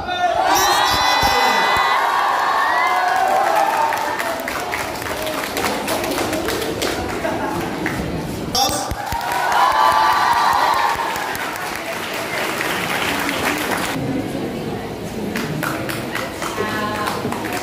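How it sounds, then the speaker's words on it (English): A school audience at a class-11 freshers' event applauds and cheers, loud crowd clapping mixed with shouts and whistles that swell and ease in waves, with voices over a sound system and some thumps. "Your applause should continue."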